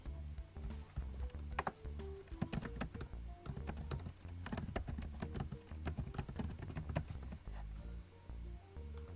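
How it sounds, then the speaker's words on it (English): Brisk typing on a computer keyboard fills the whole stretch, a steady patter of close, crisp key clicks with irregular rhythm and no talking. "The first step is to type in the title of your presentation."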